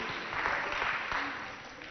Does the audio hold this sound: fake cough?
no